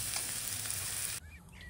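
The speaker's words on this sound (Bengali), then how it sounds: "তো চলো এখন এটাকে ভালো করে ভাজা করি" Fish fries in a hot pan with a loud, dense sizzle that cuts off abruptly and drops to a quieter crackle.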